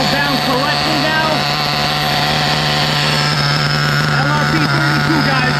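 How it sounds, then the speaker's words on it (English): An HPI Pulse 4.6 RC rally-cross buggy with an LRP32 nitro engine runs steadily at a rich idle, a loud close mechanical whine with a constant droning tone and no break for the whole stretch. "We got a nice running Nitro. Motor seems to have idled down correctly now."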